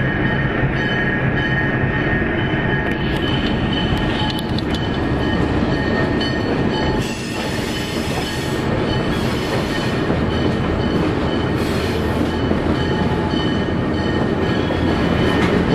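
A Hoosier Valley Railroad train rolls over a grade crossing on a very tight curve at State Road 8 (Main Street) near La Crosse. A continuous, fairly close rumble of wheels and cars runs throughout, with no voices.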